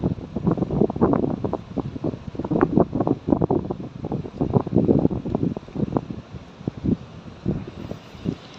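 A deep, continuous rumbling roar of a cold lahar mudflow from Semeru volcano, loud and close, with gusting wind noise layered over it and no pauses throughout.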